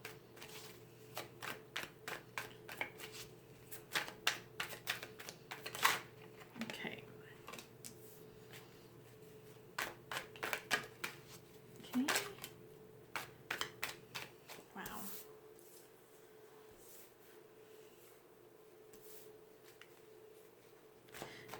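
An A.E. Waite tarot deck is shuffled in short, crisp bursts of card riffles and flicks, repeated irregularly at close range, with a quiet voice speaking in between and a faint steady hum underneath.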